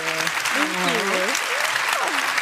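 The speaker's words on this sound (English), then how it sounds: "Everyone, please join me in giving a round of applause to the Banner Sisters" Loud, dense audience applause at a conference event, honouring invited speakers, with voices talking and calling out over the clapping.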